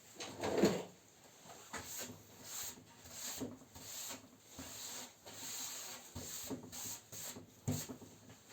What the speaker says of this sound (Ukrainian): Тепер трошки зашліфую та готовий віддавати.